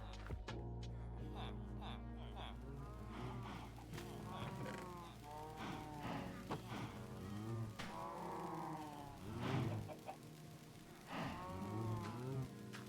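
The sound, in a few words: cows mooing in a video game (Minecraft-like)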